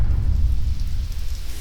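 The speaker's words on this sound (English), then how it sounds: "a thunderstorm hit Le Mans, covering the circuit in rain and spray" A thunderstorm lashes the Le Mans circuit with heavy rain, a dense, unbroken roar of downpour with deep low rumbling, loud and close, and no one speaking.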